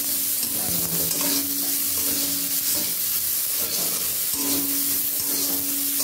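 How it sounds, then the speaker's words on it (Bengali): Boiled potatoes frying and being stirred in a pan, with a steady sizzle and repeated scraping strokes running throughout at close range, no talking. "আলু তো সেদ্ধ আগেই করে রেখেছিলাম, জাস্ট একটু ভাজা ভাজা করে"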